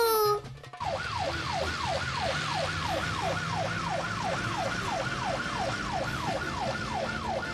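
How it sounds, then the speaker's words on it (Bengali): A police car siren in a children's animated cartoon wails in a steady repeating rising-falling cycle, loud and close, holding evenly after a brief opening burst of other sound. "পিছনে পুলিশের গাড়ি আসছে মনে হচ্ছে"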